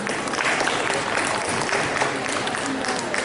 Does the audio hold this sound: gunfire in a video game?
no